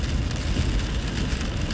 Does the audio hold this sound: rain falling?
yes